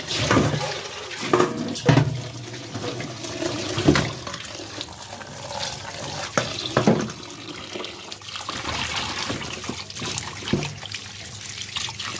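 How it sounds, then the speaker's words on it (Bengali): Running tap water splashes and trickles steadily as a slippery raw sheatfish is rinsed by hand in a sink, with intermittent louder splashes and handling knocks and no talk. "প্রচুর পেছলন মাছটা ধুয়ে নিই"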